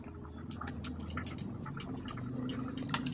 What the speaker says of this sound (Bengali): তেল ছাড়ার পর আমি এখানে গরম জলটা অ্যাড করব